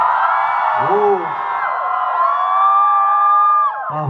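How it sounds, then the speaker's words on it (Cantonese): A large banquet crowd at a Chinese University of Hong Kong United College anniversary dinner whoops and cheers for a pop singer after a song, with loud, overlapping high shouts and screams. "多謝大家咁熱烈嘅掌聲同埋歡呼聲啦"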